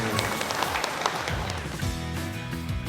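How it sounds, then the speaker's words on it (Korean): Audience at an autumn apple-season opening ceremony in Asan claps together for the farmers, a dense, steady patter of many hands filling the whole moment with music underneath. "그분들께 여러분 박수 한번 보내주시죠"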